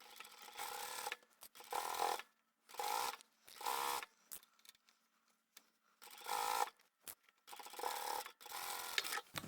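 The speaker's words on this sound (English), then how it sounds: "we can sew that in place" A sewing machine stitches a recessed zipper panel into a handbag with a 1 cm seam allowance, running in several loud bursts of rapid needle chatter separated by short pauses.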